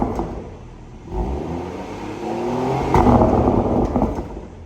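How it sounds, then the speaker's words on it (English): BMW 340i M Sport with a Remus cat-back exhaust revved gently in comfort mode, a moderate, close engine note swelling twice from a low idle burble without any speech. "Now Dan's going to give it a little gentle rev in comfort first."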